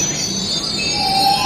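A metro train at Ameerpet station in Hyderabad, India, draws in with a high, thin wheel squeal over a steady rumble, loud and close throughout the brief moment.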